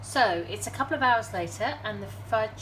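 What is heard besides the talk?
None of the usual background noises is heard.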